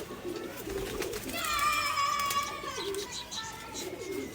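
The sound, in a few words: Kaldom pigeon chicks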